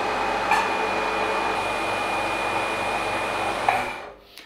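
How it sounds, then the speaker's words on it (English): A 7x12 mini lathe converted to CNC runs its spindle motor clockwise at 125 RPM, giving a steady low mechanical hum with a faint high whine, fairly close, before cutting off near the end. "S125, which is 125 RPM, and M3, start the spindle clockwise."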